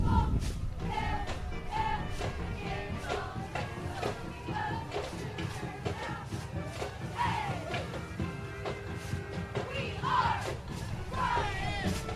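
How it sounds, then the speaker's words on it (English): A high school cheerleading squad performs a loud chanted cheer at an outdoor parade, shouted voices in rhythmic bursts with crowd noise and thumps throughout, sustained and close. "A nice cheer there for us."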